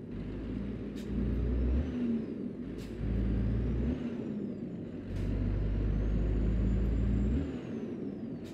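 Renault Magnum truck with a chipped engine in Euro Truck Simulator 2, a deep diesel drone rising and falling through repeated abrupt gear shifts, each change marked by a sharp hiss and a brief drop in revs.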